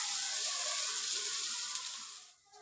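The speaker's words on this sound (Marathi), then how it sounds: "मी ह्याच्याला ही सगळी फ्राय करून घेते" Halwa fish pieces frying in a pan give off a steady, close sizzle with bright crackling hiss, holding even before fading out at the end.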